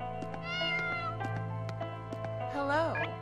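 A cat in the indie Xbox 360 game Zombie Shotgun Massacre 3 lets out drawn-out, wavering meows and a rising caterwaul over a steady game hum, close and clear, with someone talking alongside.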